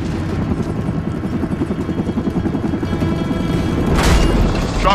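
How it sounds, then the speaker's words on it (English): A helicopter approaches in the video game Army of Two: The Devil's Cartel, its steady rotor thump running through the whole stretch, with a heavy burst of explosive noise near the end. "Chopper incoming."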